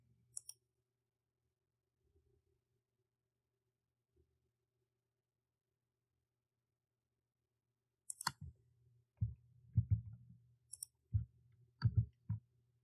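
Crisp computer mouse clicks, a lone click and then a scattered burst of several clicks close to the mic, with faint handling noise between them and no talking.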